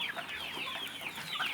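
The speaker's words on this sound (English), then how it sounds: "This is our local chicken." Local chickens, seven-week-old parent stock, clucking on a mixed farm in a steady stream of overlapping calls, moderately loud and close, with no talk.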